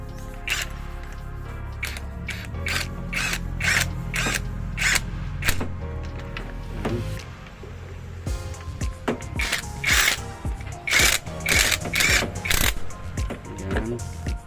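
A ratchet tightens a part while a power front window is fitted on a DR17V 4x2 Tiptronic vehicle, giving quick, repeated close clicking strokes in bursts, with a short pause in the middle and a faint mechanical background.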